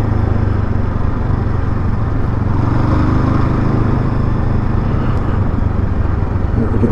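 A Honda CL500 motorcycle rides off road on a rough trail, its engine giving a continuous, close, steady drone with a faint rattle and no pauses.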